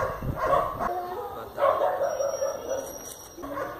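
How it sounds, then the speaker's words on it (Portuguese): A dog barks and yips a few times in quick bursts at moderate distance, with a thin high whine in the background. "Cachorro."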